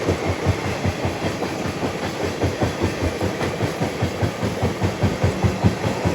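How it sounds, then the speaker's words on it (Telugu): Superfast express train rolling into a station, hauled by a twin locomotive, loud and close with a steady rumble and rhythmic clickety-clack of wheels over rail joints, no voices. "అదిగో వచ్చేస్తుంది బండి."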